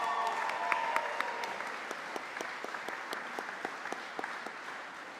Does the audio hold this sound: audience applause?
yes